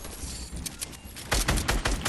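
Bursts of video game gunfire in a solo squads battle royale match, a quieter patter at first, then louder sharp rapid shots in the final second, no talk.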